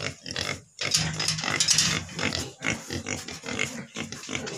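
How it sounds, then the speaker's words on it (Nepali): Pigs and piglets on a pig farm, a close chorus of repeated grunts, squeals and snorts in short overlapping bursts, fairly loud with no talking. "यहाँ चाहिँ सुँगुरहरू अहिले चारो खाएर बसेको छ"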